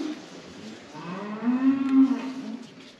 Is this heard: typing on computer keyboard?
no